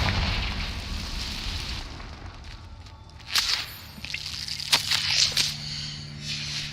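A Confringo fire spell bursts in Hogwarts Legacy over a low, steady rumble, with a few sharp crackling blasts near the middle and a smaller pop soon after.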